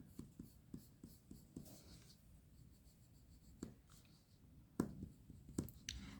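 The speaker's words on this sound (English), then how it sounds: "The pencil going off the edge of the paper." Colored pencil scratching over paper and scraping off its edge, with repeated faint strokes and a few sharper scrapes, quiet and close with no talk.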